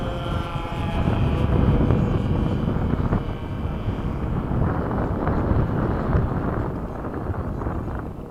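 Red Tail P-51 Mustang, a propeller-driven warbird, runs its engine nearby at an airfield, a loud steady broadband roar with wind buffeting the microphone, continuous throughout without talk.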